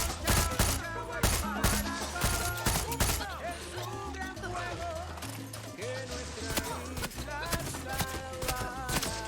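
Suppressed gunfire in the Far Cry 6 video game comes as rapid, close bursts of muffled shots over in-game music and effects, with a voice heard talking at points.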